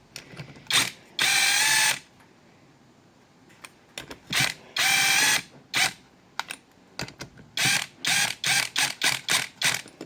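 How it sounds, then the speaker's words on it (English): Small rattle gun (impact wrench) working on the top end of a Honda Gyro X scooter engine, loud close bursts of buzzing hammering, several long runs then rapid short pulses, no talking. "I can't help but use my wee rattle gun."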